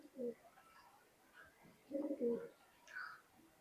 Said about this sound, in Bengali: দেখেন কবুতর খুবই সুন্দর কবুতর